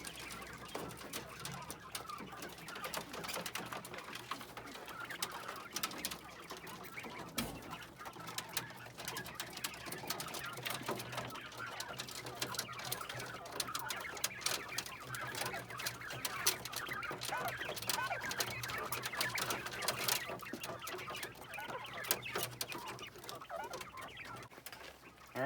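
Quail at feeders in a backyard pen with an automatic watering setup, chattering and clucking in a steady, dense flock murmur that carries on without a break, with no talking.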